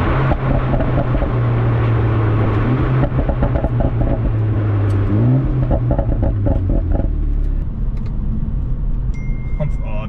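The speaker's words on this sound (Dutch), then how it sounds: "Dan hoor je die uitlaat toch wel heel goed, hè?" Exhaust note of a BMW Alpina B4 S BiTurbo cabriolet, a steady loud engine drone that rises and falls in pitch as the car pulls, heard from inside the car with a constant road rumble underneath.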